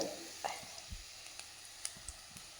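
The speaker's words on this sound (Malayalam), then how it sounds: "സവാളയും ഈ വെളുത്തുള്ളിയും പച്ചമുളകും ചേർത്തൊന്ന് വഴറ്റിയതിന് ശേഷം ഈ മസാല" Onion, garlic and green chilies sautéing in a pan, a steady close sizzle with a few soft stirring knocks.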